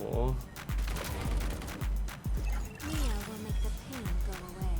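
Repeated gunshots from the Hyper Front shooter video game crack in irregular bursts, loud and close, layered over in-game sound effects and a voice talking throughout.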